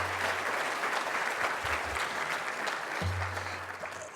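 Sustained applause from the audience at a South Carolina humanities awards ceremony, dense and steady throughout, with a low hum running underneath.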